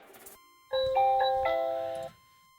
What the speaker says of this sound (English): So if I wanted like doorbell 8 and hit that one.